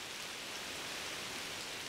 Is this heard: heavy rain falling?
yes